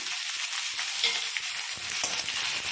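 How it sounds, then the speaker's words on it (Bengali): Eggplant sizzles and fries in a pan with browned onions and salt, a steady close crackling hiss with occasional stirring scrapes and no talk. "এবার বেগুনটা দিয়ে দিলাম, নুন দিয়ে দিলাম।"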